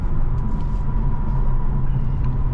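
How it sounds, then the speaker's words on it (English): A 2015 Infiniti Q60 IPL engine hums steadily with a deep, low rumble while the car drives, loud and close throughout. "Look how good that engine sounds."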